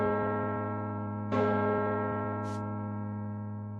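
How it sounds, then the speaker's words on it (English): Church bells toll in a steady, resonant hum, with one stronger strike partway through and long ringing decay, and no voices present. "You awake to the sound of bells."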